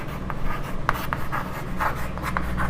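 Numbers written by hand with a pen during a maths lesson, short scratchy strokes in quick irregular bursts, close and fairly quiet over a low steady hum.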